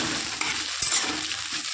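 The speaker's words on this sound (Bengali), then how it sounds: "তারপরে আমি আলু পটলগুলো খুব ভালো করে তেলে নেড়ে নিচ্ছি" Potatoes and pointed gourd are tossed in hot oil, with a steady close sizzle and occasional soft scrapes of a spoon against the pan.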